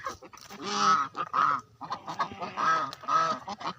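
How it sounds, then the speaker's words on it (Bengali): A flock of domestic geese honks on the bank of the Kapotaksha river: loud, nasal calls come close by in repeated overlapping bursts, with brief gaps between the groups of honks. "রাজহাঁসের দল"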